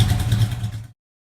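A Chevrolet Chevelle engine runs close by at a steady idle with a deep low rumble and a mechanical clatter, cutting off abruptly after about a second.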